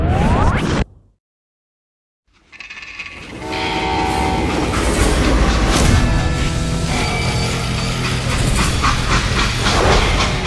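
A train rumbles past in the Call of Juarez Gunslinger video game. A brief sound cuts out into silence, then a loud, continuous rolling roar builds with rattling wheels and a horn-like tone.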